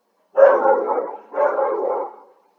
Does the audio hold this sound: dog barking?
yes